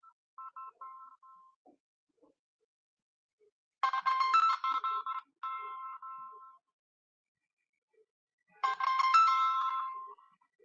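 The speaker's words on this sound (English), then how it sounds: "Somebody's calling. My phone is acting up crazy tonight." A phone ringtone for an incoming call plays in repeated loud melodic bursts separated by pauses, with a faint chime beforehand and no talking over it.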